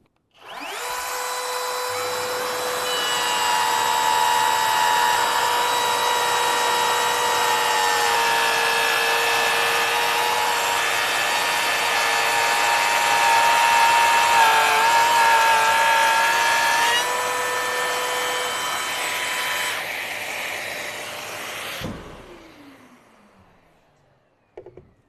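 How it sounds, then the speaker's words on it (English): Bosch GLF 18V-8 cordless edge router and laminate trimmer cutting wood, a steady high whining motor with shifting tonal pitch running continuously for about twenty seconds, close and loud, then spinning down to silence. "we have the GLF 18V-8, an affordable edge router and laminate trimmer."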